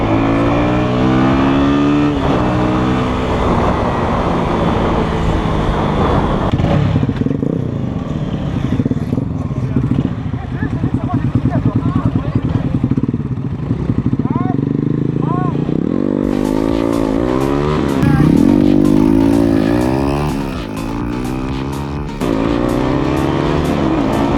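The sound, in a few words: Yamaha motorcycle engine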